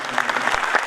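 Short burst of theatre audience applause at a comedy stage play, a dense patter of many hands clapping for under a second.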